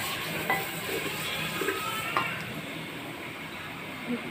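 Onions sizzle softly while frying in a pot for a matki handi qorma, with occasional light clinks of a spoon stirring, close and fairly quiet.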